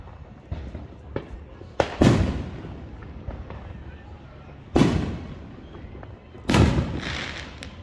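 Fireworks and firecrackers go off during a Fourth of July celebration, several sharp bangs and booms spaced apart, some loud and near, others smaller pops, with crackling tails and background noise between.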